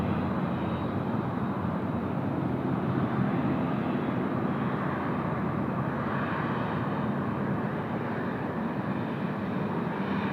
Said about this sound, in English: That will be our first opportunity to feature a Korean 787-10 departing from Sydney.